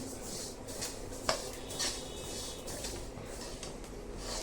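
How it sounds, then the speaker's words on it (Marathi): Sesame seeds dry-roasting and being stirred in a pan for tilgul ladoo, a steady gritty scraping with soft rustling and a sharp clink of utensil on metal, close and moderately quiet, with no talking. "तीळ छान भाजून घेतले मी"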